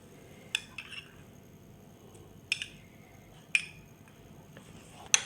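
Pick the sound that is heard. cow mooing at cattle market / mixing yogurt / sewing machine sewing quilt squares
mixing yogurt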